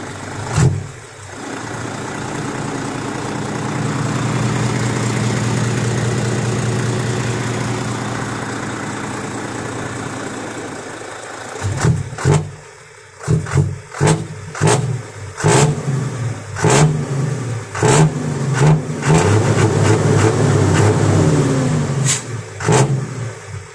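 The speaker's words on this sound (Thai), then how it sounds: "เดี๋ยวเร่งเครื่องดู" Isuzu NPR truck engine fitted with a new 15-inch exhaust, idling with a steady rumble and then blipped in a series of sharp, loud revs close by, with no talking.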